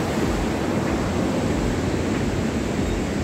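A river flows far below a rough high mountain road on the Shingo La pass into Zanskar, a steady broadband rushing roar that holds constant throughout, with no voices over it.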